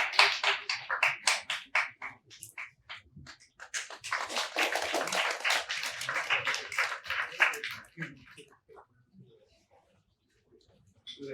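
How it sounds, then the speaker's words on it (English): A crowd at the IITM Pravartak Datathon 2023 winners announcement applauds the winning team: scattered claps swell into dense, sustained applause, then thin out and fade to near silence. "give them a big round of applause"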